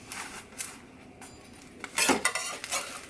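A breakfast quesadilla with bacon cooks in a pan, giving soft sizzling broken by a few utensil scrapes and metallic clinks that come louder near the end.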